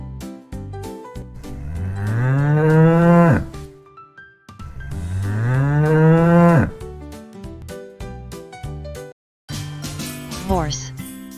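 Cattle moo in two long, loud, low calls, each rising and then falling away, with a short shriller sound near the end and music playing underneath.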